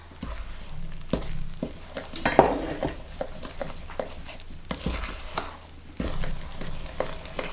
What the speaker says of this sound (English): Now we're going to mix in all of our wet ingredients into our dry ingredients.